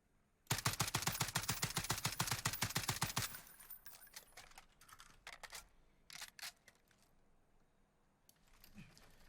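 An FAL rifle in Warzone firing a rapid burst of about twenty shots, sharp and loud, then a few scattered quieter clicks and taps, with no voices.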